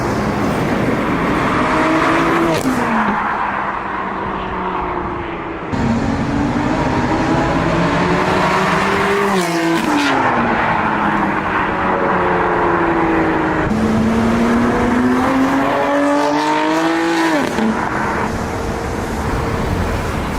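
Loud, raspy exhaust roar from a BMW M2/M3/M4 with an aftermarket mid pipe, revving up and down through several pulls and gear changes, close and continuous with no talking.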